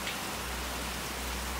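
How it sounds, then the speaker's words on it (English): Heavy rain pours steadily outdoors, a dense, even hiss of drops that keeps up at a constant loud level with no voices heard. "it's pissing rain outside. It's really bad."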